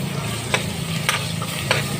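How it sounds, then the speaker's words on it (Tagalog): Alamang shrimp paste sautéing in a pan, a steady close sizzle broken by a few louder scraping stirs at regular intervals, with no voices. "ating alamang kasi kailangan po yung igisa dahil para maluto siya"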